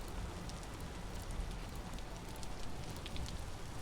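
Steady, dense rain hisses and patters without a break in the survival video game Vintage Story, a constant wash of sound heard up close with no voices.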